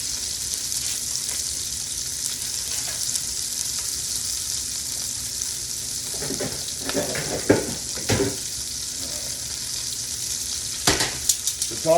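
Meatballs sizzle steadily in olive oil in a pan, a constant close frying hiss with a few louder clatters and scrapes as they are turned.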